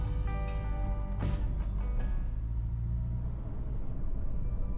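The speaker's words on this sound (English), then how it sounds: "We start with a drive around the southern portion of the parish." A car drives along rural country lanes in a small English parish, its engine giving a steady close rumble interior throughout with a brief passing whoosh.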